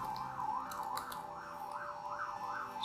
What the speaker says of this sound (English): Sorry for the siren if you are listening.